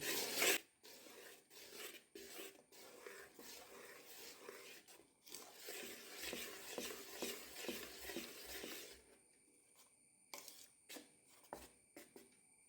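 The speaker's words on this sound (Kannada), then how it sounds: "ಇದನ್ನೀಗ ಒಂದು ಸಲ ಚೆನ್ನಾಗಿ ಮಿಕ್ಸ್ ಮಾಡಿಕೊಳ್ಳಬೇಕು." Jackfruit batter is stirred by hand with a steady wet scraping and swishing against the bowl, then slows to a few scattered scrapes and taps.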